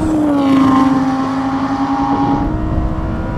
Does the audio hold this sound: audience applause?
no